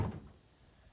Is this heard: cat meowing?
no